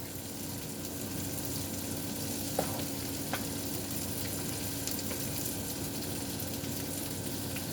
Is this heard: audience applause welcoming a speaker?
no